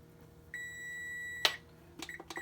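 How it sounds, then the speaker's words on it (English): A kitchen timer rings with a long steady electronic beep, then a sharp clatter, followed by a few short repeated beeps in a quiet kitchen while macaroni and chicken casserole is being made. "once ever that timer is done, we're going to start this timer here for 6 minutes"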